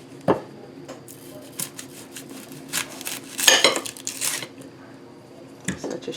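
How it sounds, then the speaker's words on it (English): A kitchen knife slicing the ends off an onion on a cutting board, giving a few sharp separate chops and knocks against the board with light clatter between them and occasional faint talk. "So, this is how you cut an onion."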